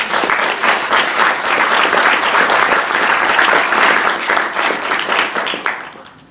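Sustained applause from citizens in the audience at a city council candidates' debate in Fredericton, dense and steady for about six seconds before tapering off at the end.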